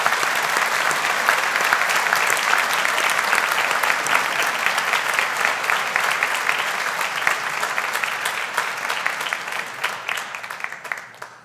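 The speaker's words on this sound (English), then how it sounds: "so that's the clapping bit over" A graduation ceremony audience of graduates, friends and family claps for faculty staff in a large hall, with dense continuous applause that stays loud for several seconds before slowly thinning and fading at the end.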